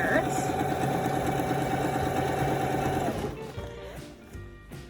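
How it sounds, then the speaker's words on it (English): A sewing machine runs a straight stitch along a ribbon skirt, its rapid, steady mechanical whir close and continuous for about three seconds before stopping, followed by quieter handling sounds. "So I'm just gonna make a straight stitch all the way down to the end of the skirt."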